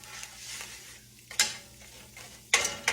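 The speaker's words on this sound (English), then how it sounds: "But you stir it around." A spoon stirs gravy for a salt pork, eggs and biscuits breakfast in a pan, giving a soft low scraping and sizzling bed broken by a few sharp metallic clinks and scrapes.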